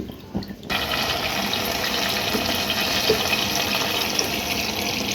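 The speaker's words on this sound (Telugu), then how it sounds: "చింతపండు రసం అయితే వేసుకుంటున్నా" Tamarind juice pours steadily into a cooking pan. The continuous, close liquid splash holds at an even level for several seconds, with no speech.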